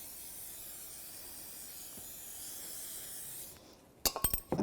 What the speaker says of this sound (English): I'm going to spray it with penetrating spray on the threads